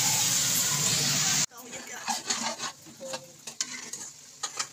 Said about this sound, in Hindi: तो एक तरफ हमारी प्याज भून रही है, एक तरफ हमारी बिरयानी बन रही है